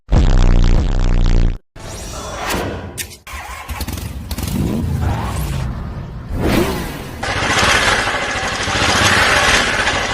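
Motorcycle engine roaring in a movie action scene with a flying bike, loud revving bursts broken by abrupt cuts and pauses and then a sustained rough drone.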